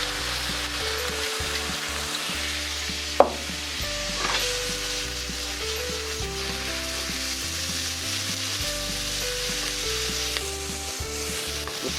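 Bacon fries in a pan of oil for carbonara in a continuous, moderately loud sizzle, with occasional stirring scrapes and one sharp utensil knock, and no voices.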